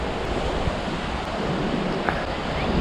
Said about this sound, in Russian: Вот такой вот пляж.